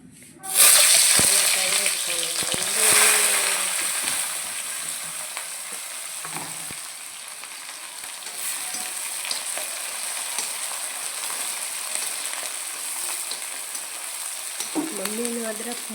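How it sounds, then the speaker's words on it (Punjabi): Hot oil sizzles and crackles steadily as spices hit the pan, with a few clinks of stirring and brief background voices. "ਫਿਰ ਆਪਾਂ ਲਾਉਂਦੇ ਆ ਤੜਕਾ ਚਲੋ ਜੀ ਤੇਲ ਹੋ ਗਿਆ ਗਰਮ"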